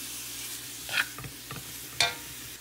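Beef with pepper stirred in a hot pan: a steady sizzle with a few distinct scraping clacks of a utensil against the pan, close and without talk.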